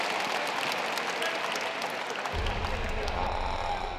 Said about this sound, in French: Bravo, c'est très bien. On l'applaudit.